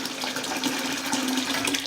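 Water running out of a hot water steam boiler during maintenance, a steady loud splashing gush that continues without pause.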